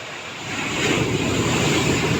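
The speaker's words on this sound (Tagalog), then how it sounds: "Ayan, laki ng alon, no?" Heavy ocean surf rolls in at a harbor, a broad steady roar of large waves building louder after the first half second, with wind buffeting the microphone.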